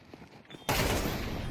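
Gunfire in the video game Counter-Strike 2, quiet game ambience and light clicks, then a sudden loud burst of rapid shots that continues to the end.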